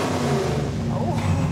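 Small block Chevy 406 engine on a dyno with 30 degrees of timing, roaring loud and steady through an RPM sweep from 4,000 to 7,000, its pitch climbing throughout.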